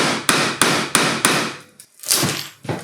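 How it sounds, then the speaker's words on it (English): Several sharp hammer blows strike metal in an even rhythm while fitting a 7-port cylinder head to a classic Mini, then a short pause before more knocks, loud and close. "If in doubt, get the hammer out."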